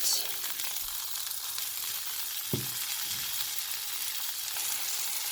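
Beef steak sizzles in oil in a pan, a quiet, steady hiss with one brief knock partway through and no voices.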